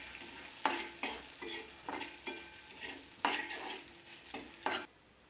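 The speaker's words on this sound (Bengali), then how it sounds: "দিয়ে এটা আবারও কয়েক সেকেন্ড ভালোভাবে ভেজে নেব" Two cardamom pods and two cinnamon sticks fry in hot oil. A steady close sizzle is broken by about eight sharp, rhythmic stirring scrapes of a spoon against the pan, with no talking.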